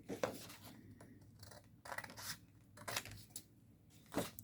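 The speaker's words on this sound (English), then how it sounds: "you're going to cut this corner off" Scissors cutting a corner off a paper explosion card on a punch board, several quiet snips and rustles of the card being handled, close and soft, no voices.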